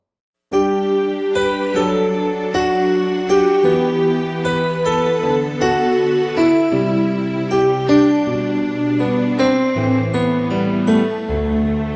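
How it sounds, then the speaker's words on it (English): Synthesizer chords on a Roland Fantom-0 keyboard play with a chiming bell-like layer on top, each change ringing out with a bright, tinkling attack over a steady sustained tone. "We have added the bell timbre to give it even more color."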